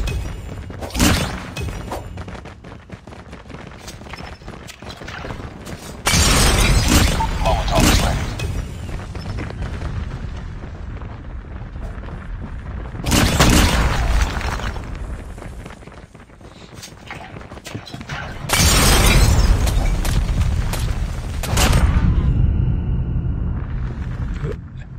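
Molotov cocktail bursting into flames in Call of Duty Mobile, heard as several heavy booming, rumbling swells separated by quieter stretches of game noise, loud and close, with a voice partly audible between the blasts.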